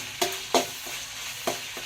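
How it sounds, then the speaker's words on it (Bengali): Mutton and goat fat frying with onion and chili in a pan: a soft, continuous sizzle with a few sharp stirring knocks spaced through it. "মাংস আর খাসি মাংসের চর্বি, পেঁয়াজ, লঙ্কা ভাজা ভালোভাবে হয়ে গেছে"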